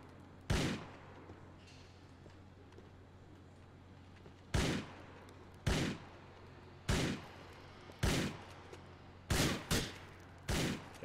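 Gunfire in GTA IV: about eight loud, sharp shots spaced irregularly, a few in quick pairs, each with a short ringing tail over a steady low hum, no voices.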